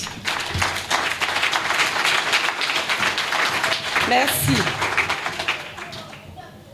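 An audience applauds at a gathering in Cotonou, continuous clapping throughout with scattered louder claps and a short spoken word of thanks partway through.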